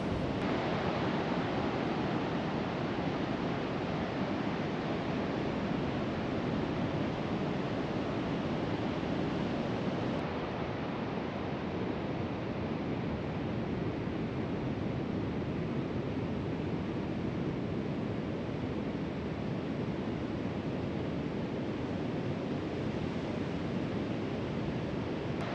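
Steady ocean surf at Second Beach in La Push, Washington, a continuous broad roar of breaking waves with wind mixed in, unbroken and fairly loud throughout.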